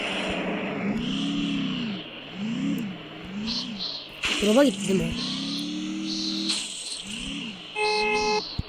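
A car engine revs up and down in repeated rising and falling sweeps, as heard in a video game, under a voice talking over it, with a short horn-like burst midway.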